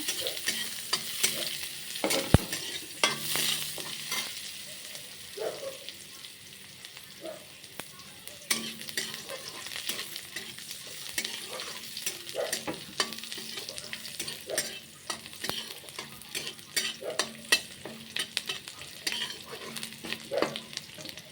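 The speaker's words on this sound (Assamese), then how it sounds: "পিঁয়াজ দি অকণমান মই 5 মিনিট ভাজিম, পিঁয়াজখিনি ৰঙচুৱা হোৱালৈকে" Sliced onions frying in a pan, a soft continuous sizzle broken by frequent scraping and tapping stirs throughout.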